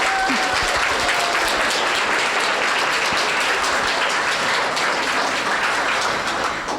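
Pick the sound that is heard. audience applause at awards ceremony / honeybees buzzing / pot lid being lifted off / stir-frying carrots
audience applause at awards ceremony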